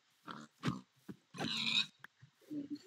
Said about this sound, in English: A lot of pigs around here.